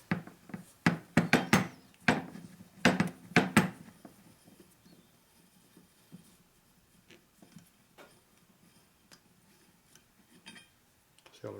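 Metal scraping and clinking as rust is cleaned from inside a 1957 Harley-Davidson panhead engine part, with sharp, close bursts of rattling in the first few seconds, then quieter, sparse taps and scrapes.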